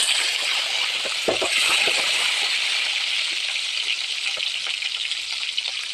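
Shallots and curry leaves fry in hot oil for an anchovy dried-fish curry, a dense continuous crackling sizzle, close and fairly loud, with a brief rattle of stirring near the start.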